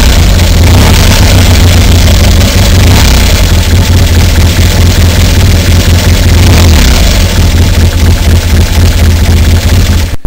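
A 1973 Triumph Daytona T100R motorcycle engine runs steadily and very loudly up close, a rough, continuous idle that fills the whole stretch without any speech.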